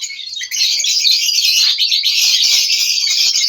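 Caged budgerigars and lovebirds chirp and twitter loudly and densely at a bird sale, a close, continuous chorus of overlapping high calls.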